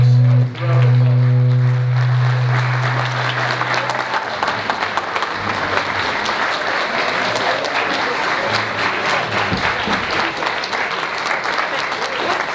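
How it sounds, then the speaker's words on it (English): Sustained, loud audience applause at an evening mayoral candidate forum held in an elementary school in Denver, Colorado, a full room clapping steadily for about twelve seconds after a brief spoken introduction over the start. "let's give all of our 15 candidates a round of applause"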